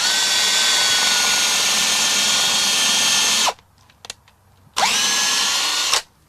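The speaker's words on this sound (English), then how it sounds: "Once you drill your holes, you take a dowel and you insert one dowel in each hole." Power drill boring holes in wood, a loud steady whine running for several seconds, cutting off, then a second shorter burst of drilling after a brief quiet pause.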